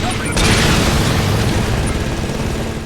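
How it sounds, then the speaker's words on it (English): A rocket explosion disables an armored personnel carrier in Saints Row 2: a loud, close blast bursts in just under half a second, then a dense rumbling roar lingers and slowly tapers off. "even if it doesn't blow up the actual APC, it's nice to know that one rocket is enough to at least disable it"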